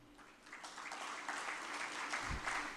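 An audience at a political speech breaks into applause, a short burst of dense clapping that swells slightly and holds for a few seconds.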